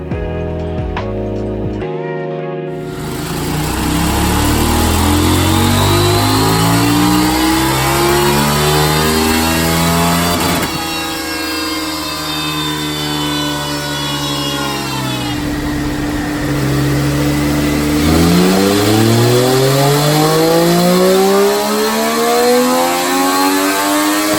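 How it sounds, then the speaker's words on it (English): A KTM 890 Duke R and a Triumph Street Triple RS run on a dyno at JHS Racing: loud, close engine roars that climb in pitch through repeated full-throttle sweeps, with brief drops between pulls and no talking. "we took both bikes to JHS Racing and let Senor Pasty Legs loose on the dyno"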